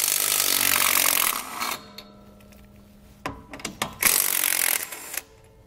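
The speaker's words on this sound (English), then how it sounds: "We'll remove these nuts using a 15 millimeter socket." A socket wrench on a 15 millimeter socket removes nuts from the brake backing plate of a 2014 Heartland Bighorn fifth wheel RV, giving a loud buzzing run, a pause, then quick ratcheting clicks and another burst, close by, no talk.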